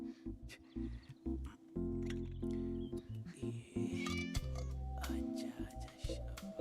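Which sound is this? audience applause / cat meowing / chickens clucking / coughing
cat meowing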